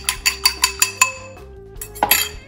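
Fork or whisk rattling against a microwave-safe mug while an egg is beaten, with about six quick, close metallic clinks in a steady rhythm, a pause, then a second burst of clinking.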